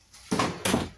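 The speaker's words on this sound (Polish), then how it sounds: "drzwi się otworzyły" A door opening in a house, heard as two loud close clunks and rattles in quick succession after a brief quiet moment.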